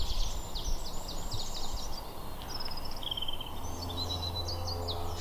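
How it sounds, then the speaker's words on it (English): Woodland birdsong at Brandon Marsh in spring, with wren, blackbird and robins singing: bright trilling phrases and chirps come in bursts over a steady low drone from a distant light aircraft. "The woodland here is just full of birdsong."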